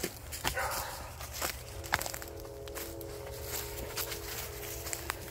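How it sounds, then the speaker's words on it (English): A dog barks a few times at a distance on a hiking trail amid outdoor ambience and faint shuffling footsteps, the barks brief and not very loud. "We're being barked at."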